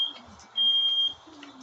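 A high, piercing electronic alarm tone sounds in a steady loud beep, with a fainter tone before and after it.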